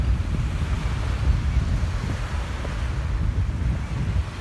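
Sea waves and wind on the coast at Stonehaven, Scotland, make a constant low rumbling roar with gusty wind buffeting the microphone, with no clear voices.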